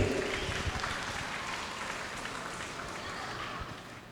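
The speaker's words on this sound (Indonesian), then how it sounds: "Boleh tepuk tangannya sekali lagi." An audience at the opening ceremony of the DKI Jakarta Hindu Pasraman Jamboree in Graha Sabha Pura Aditya Jaya hall, Rawamangun, claps in a dense, moderately distant wash that slowly tapers off.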